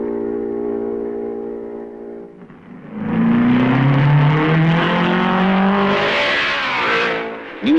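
A 1955 Belgian Grand Prix race car approaches and roars past, its engine note rising loud and close, then fading as it speeds away.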